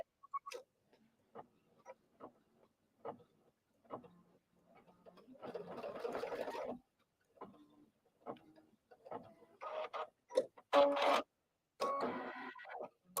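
A sewing machine stitches short placement lines for twine, with quick whirring bursts of stitching broken up by light ticking clicks and quiet pauses.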